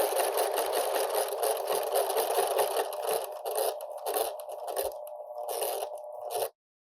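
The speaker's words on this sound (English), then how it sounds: "So I'm going to sew down this block." A sewing machine runs steadily, stitching down a pieced quilt block for a sampler quilt, with a continuous whirring hum that dips briefly a few times and then stops abruptly.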